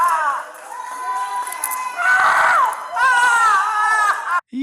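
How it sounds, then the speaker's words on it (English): Neighbors cheer and shout during an arrest, excited voices rising and falling in bursts over a few seconds, loud and close with a sharp cutoff near the end. "Yo, the neighbors are cheering."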